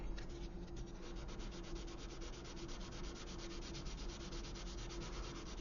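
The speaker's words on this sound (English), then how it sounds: "You can also even use the 400 grit sanding sticks as well, but go light." Light, rapid back-and-forth strokes of a 400-grit sanding stick on a 1/200 scale model ship superstructure rasp steadily and softly, a fine scratchy rubbing repeated in even rhythm.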